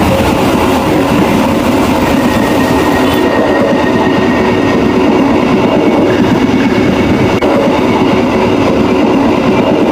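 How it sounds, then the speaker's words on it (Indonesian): A train rumbles loudly and steadily along the tracks from inside a carriage, a dense roar of wheels and motion with faint rhythmic clatter. "Kereta pun mulai melaju dengan cepat"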